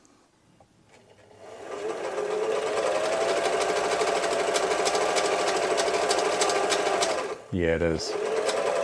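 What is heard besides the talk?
Singer 247 sewing machine sewing with a clonking noise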